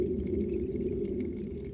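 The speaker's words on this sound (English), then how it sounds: "This beautiful trickling sound" Meltwater trickling in a small brook lined with icicles, a continuous close burble and gurgle at an even level, steady throughout and with no voices.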